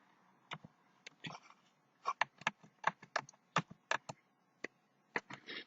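A computer keyboard being typed on while a passport number is entered into Sabre, a close, dry series of irregular clicks and taps in short bursts with brief pauses, over a quiet background.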